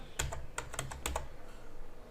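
Short bursts of keystrokes on a computer keyboard as a command is typed on a Linux computer, with quick, crisp clicks in a quiet room.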